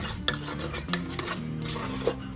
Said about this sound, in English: make sure we're scraping again, because the butter will lump up on you